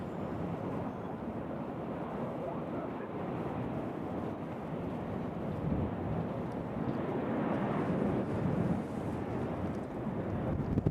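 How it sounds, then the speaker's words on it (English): Helicopter flying near Nashville International Airport, a steady broadband rotor and engine roar with wind buffeting, holding fairly constant and swelling slightly toward the end, with no talk over it. "That's a helicopter."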